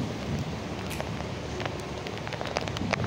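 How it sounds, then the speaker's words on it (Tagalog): Soft, steady rain patters with scattered faint drips and crackles, a quiet continuous wash of sound with no voices. "Kahit umuulan."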